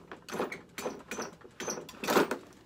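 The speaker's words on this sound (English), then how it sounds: "You hear that high-pitched squeaking?" A cleaning patch squeaks as it is pushed through a precision rifle barrel, giving several short, sharp squeals in quick succession, close and fairly quiet.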